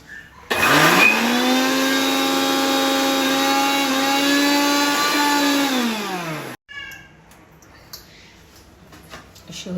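A mixer grinder jar blends washed kevala leaves into a fine chutney paste: a loud, steady motor whine runs for about six seconds, then cuts off, leaving softer clatter and handling sounds.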